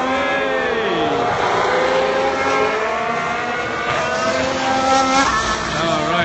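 Formula 1 cars at 2017 preseason testing pass with a continuous high-pitched engine whine and shifting pitch, steady and fairly loud, with faint voices in the background.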